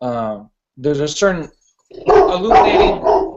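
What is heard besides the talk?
dog barking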